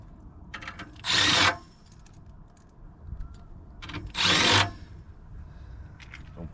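A power screwdriver drives screws into a sheet-metal coupling box during a Carrier 59MN7 furnace heat exchanger replacement, two loud, short whirring bursts close by with quieter handling noise between them.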